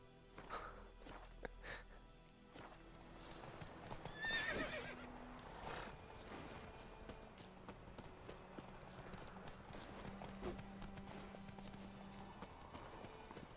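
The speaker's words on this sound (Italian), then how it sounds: "Ma i cavalli!" Horses in the video game The Witcher 3 whinny and neigh repeatedly over clip-clopping hooves and occasional snorts, the calls rising above a quiet game background throughout.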